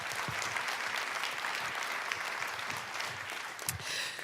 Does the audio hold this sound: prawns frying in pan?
no